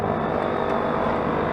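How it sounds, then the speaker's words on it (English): A loud, steady mechanical whir of a large fan on farm machinery while chopping hay, broadband and constant with a low rumbling drone, running alone without pause. "That noise is just a freaking fan."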